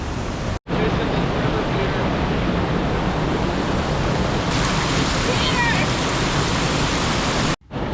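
Steady rushing water, loud and close, a continuous broadband roar of a river flowing through a rocky gorge in Costa Rica, with two brief dropouts.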